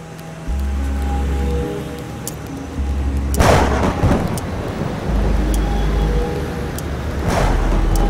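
Thunder rumbles before rain in a city street, with a heavy crack and a long rolling boom midway and another loud rumble near the end over low steady background noise.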